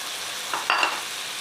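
Mutton frying in a pan with ginger and garlic, stirred with a few short scraping strokes over a steady low sizzle, close and fairly quiet.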